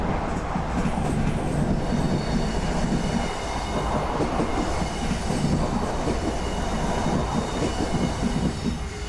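BB26000 electric locomotive hauling a freight train in a train simulator game, a continuous loud rumble of rolling stock and wheels on rails with steady clatter throughout.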